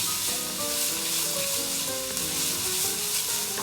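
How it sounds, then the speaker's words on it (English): Sliced garlic with aromatic vegetables and fennel seed frying in a pan, giving a steady close sizzle while being stirred, with no talking over it. "We'll stir that in just until the garlic starts to perfume the kitchen."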